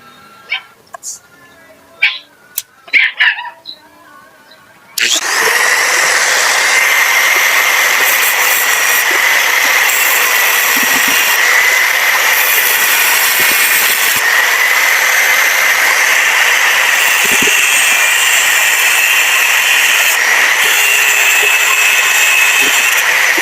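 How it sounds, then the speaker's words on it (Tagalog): A power drill bores a hole for a 6mm screw, a loud continuous whine starting abruptly after a few seconds of quieter knocks and handling, then running steadily and close until the end. "Gagawin natin dito, bubutasan na lang natin to. Para may pasok natin yung tornilyo."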